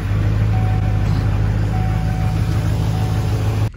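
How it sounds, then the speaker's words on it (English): A diesel truck engine on an old battery setup runs with a loud, steady, close idle drone through a cold start, with no separate cranking heard and no one talking. "Let's do a quick fire up so you can see how long it takes to crank with the old battery setup"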